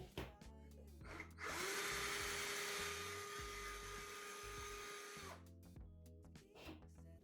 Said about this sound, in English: Remove the battery pack power cover bolts.